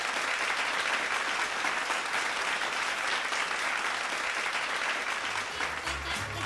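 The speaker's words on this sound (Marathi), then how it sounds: "याही 2 मान्यवरांसाठी जोरदार टाळ्या वाजूयात" Applause from women gathered at a Mangala Gaur celebration in Mumbai, honouring the guests, a dense, even, continuous clapping heard from a slight distance, steady throughout.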